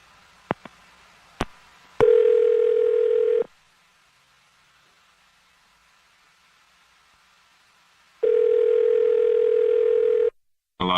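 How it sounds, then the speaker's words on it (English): A steady telephone dial tone sounds while a phone number is being called, in two loud, sustained bursts separated by a quiet gap, with a few faint clicks at the start. "I'm going to dial his phone number right now."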